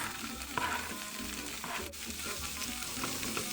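Vegetables sizzle in a pan alongside scrambled tofu, a steady close crackle and hiss with occasional stirring scrapes running throughout, no voices.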